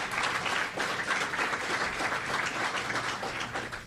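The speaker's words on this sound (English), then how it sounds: "Give yourselves another round of applause." Steady applause from a large crowd of troops at a military event in Hawaii, dense and continuous clapping that stays at an even level throughout.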